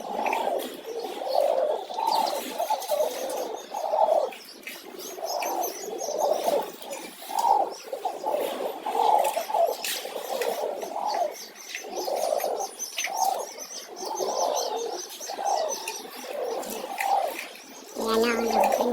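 Pigeons, racing homers kept in a loft, coo and gargle in steady low rolling phrases close by, with faint chirps mixed in and no talk over them.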